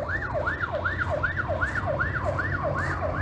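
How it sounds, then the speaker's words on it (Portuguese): An ambulance siren wailing in a rapid, regular rising-and-falling cycle as it carries victims of a motorcycle globe-of-death accident, fairly close and continuous over a low rumble of traffic. "Ambulância levando neste momento o pessoal do acidente das motos"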